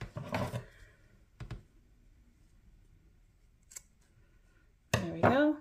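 Scissors snip loose yarn ends on a crocheted granny square purse, giving a few short, crisp cuts spaced apart in a quiet room, with a louder rustle of handling near the end.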